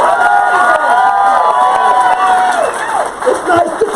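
A friendly crowd at a political meeting cheers and shouts loudly and steadily, with a dense wash of voices that dips briefly near the end.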